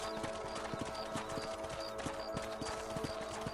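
Horses trot in the video game Red Dead Redemption, their hooves clip-clopping in a steady, even rhythm, close and continuous over a low background hum.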